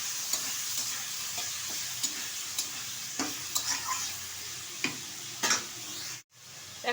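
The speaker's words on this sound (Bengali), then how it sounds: "এবার পটলটা ভালোভাবে ভেজে নেব।" Small pieces of peeled pointed gourd (potol) fry in a pan with ripe chillies and salt, a steady sizzle broken by scattered clinks and scrapes of stirring, close and alone with no talking.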